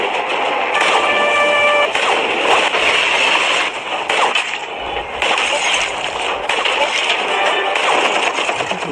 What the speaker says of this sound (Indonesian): Zarin pun kembali bangkit dan membidik satu persatu pasukan Ira dengan senjata snipernya.